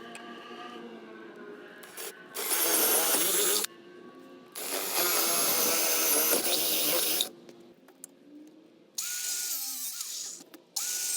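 Metal spacers for gabion cage benches being drilled and cut, a loud power tool running in three long bursts with quieter mechanical handling in between.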